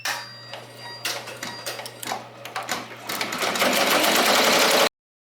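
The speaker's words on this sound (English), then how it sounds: "So now we can go back to embroidering." A Ricoma MT1501 embroidery machine stitches a design onto an apron with fast, steady mechanical chattering that grows denser and louder before cutting off abruptly.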